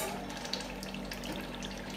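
Mixed stock pours into a thick stew in a home kitchen, a faint continuous liquid trickle and splash under a low background hum.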